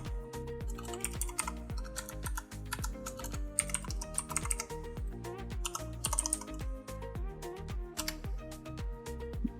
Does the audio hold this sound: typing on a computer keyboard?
yes